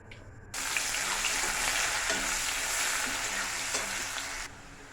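Onions hit hot oil tempered with black cumin and fry with a loud, steady sizzle that starts abruptly and holds for several seconds before easing off.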